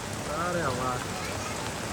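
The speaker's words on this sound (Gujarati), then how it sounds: "ભાઈ કઈ ઘટે નહીં એવો વરસાદ આવવાનો હે તો આવ્યો મારો વાલો આવ્યો" Rain falls steadily through a monsoon downpour on a farm in Gujarat, a constant close hiss of drops on surfaces while someone speaks briefly over it.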